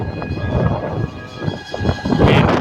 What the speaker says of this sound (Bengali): বেশ এখন জোরেই বৃষ্টি আসছে, বেশ ভালো জোরে বৃষ্টি হচ্ছে এখন।